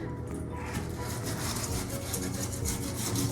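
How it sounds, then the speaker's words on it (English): A scrub brush works over a kitchen sink drain, giving a steady, close, continuous scratchy rubbing with no talk. "You'll also want to use your scrub brush. This will get inside the corners of the drain."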